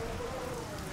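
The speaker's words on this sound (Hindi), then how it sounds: "ये सिर्फ बारिश है और कुछ भी नहीं" Rain falls steadily in a dense, hissing patter, a short continuous stretch with no voices.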